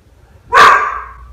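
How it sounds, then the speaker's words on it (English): A dog gives a single loud, close bark that rings out and fades over about a second, in an otherwise quiet indoor room. "Why are you barking?"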